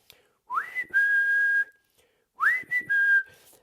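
Two rising, sliding synthesizer tones imitating whistling for a dog, from a 1977 album, each ending in a steady held note, repeated with a pause between them.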